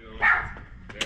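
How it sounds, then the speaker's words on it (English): A dog is set on a visitor arriving at a house and gives a single sharp bark, close and clear, followed by a faint click near the end. "you already sicking the dog on me"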